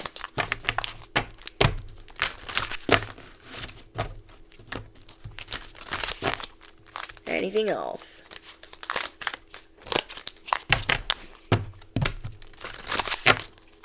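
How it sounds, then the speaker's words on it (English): Rapid papery riffling and flicking of cards in repeated bursts, close up, with a brief spoken question partway through. "Lately, the sound of shuffling gets on my nerves."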